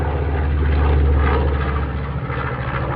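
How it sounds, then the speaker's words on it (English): Propeller airplane passing overhead outdoors, a loud steady low engine drone and airscrew hum that swells and then slowly eases off, with no talk. "real nice airplane flying over right now."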